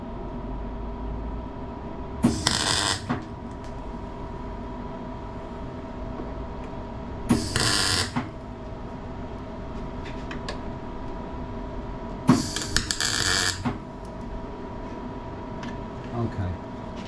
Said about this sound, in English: All we need to do is tack it all in place, just to hold it while we weld it.